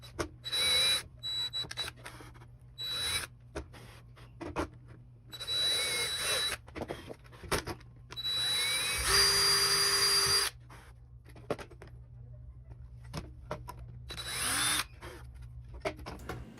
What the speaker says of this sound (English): So I'm drilling lots of holes.